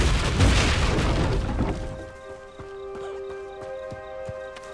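The Confringo explosive spell in Hogwarts Legacy goes off as one loud, close boom with a burst of crackling debris, then fades into quieter game ambience with faint hoof-like clops and a sustained musical tone.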